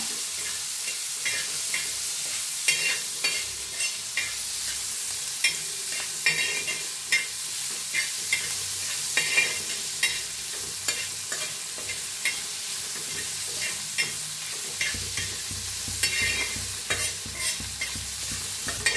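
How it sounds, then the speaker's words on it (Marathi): Finely chopped onion roasting with asafoetida in a pan, with a soft continuous sizzle broken by frequent light clicks and scrapes of a stirring spoon, close and fairly quiet. "आता भाजून घेऊया कांदा।"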